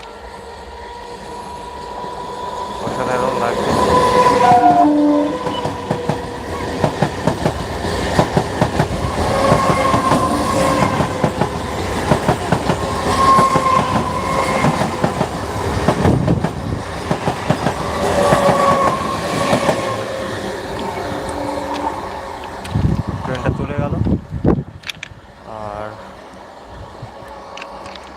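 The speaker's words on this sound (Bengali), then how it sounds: "দেখতে পাচ্ছ ট্রেনটা একদম কাছে চলে এসছে" A train passes close by, its wheels clattering rhythmically over the rails with several sharp squeals and a loud rumbling body that fades near the end, while a person talks over it.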